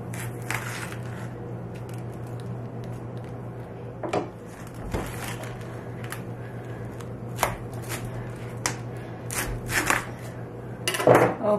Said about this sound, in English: let's cut this cabbage into quarters